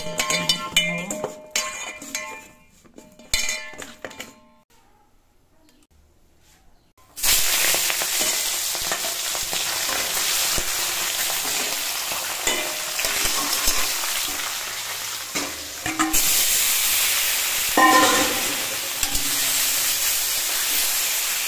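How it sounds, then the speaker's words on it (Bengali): Rohu fish pieces fry in hot oil in a pan, a loud steady sizzle and hiss that starts abruptly after a few quiet moments of handling and carries on continuously with small crackles and bursts. "আর এই পাশে দিয়ে সব মাছ এইভাবে ভালো করে ভেজে নেব"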